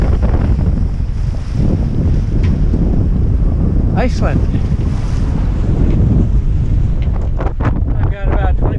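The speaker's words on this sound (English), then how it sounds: "As you can see, it's an angry sea today. It's not letting up at all." Strong wind roars across the microphone while rough, choppy seas crash around a sailboat on a solo North Atlantic crossing toward Iceland, loud and continuous, with a brief voice heard near the end.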